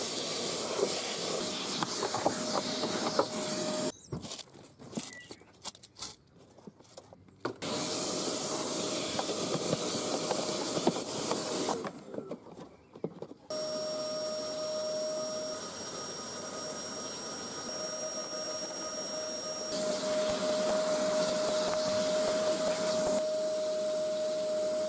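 A vacuum cleaner with a soft bristle attachment runs in a car engine bay with a loud steady whine and hiss, its pitch shifting as the nozzle moves, with brief drops and pauses.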